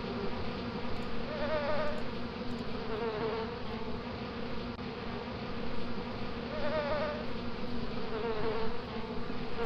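Bees buzzing steadily in A Tale in the Desert, a dense continuous insect drone with wavering pitch that swells slightly at times, close and fairly loud throughout with no voices.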